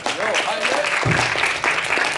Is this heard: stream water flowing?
no